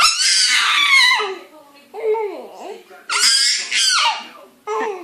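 Someone repeatedly shouts a funny, high-pitched squealing noise in several loud bursts with short pauses between them, close to the listener.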